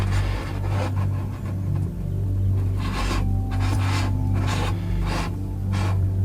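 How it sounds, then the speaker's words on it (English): A mini backpacking camp stove is screwed onto a fuel canister, giving repeated short gritty scraping twists over a steady low hum, close up. "we'll do it screwing on the stove the easy way"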